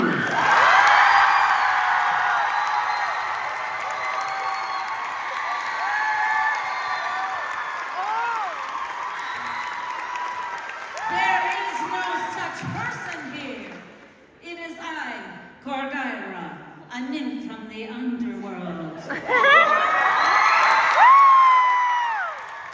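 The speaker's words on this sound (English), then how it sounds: "Huge round of applause, Stephanie Lurie." A bookstore tour-event crowd in Toronto applauds and cheers with whoops and excited shouts, loud at first, then thinning into scattered voices and a burst of cheering near the end.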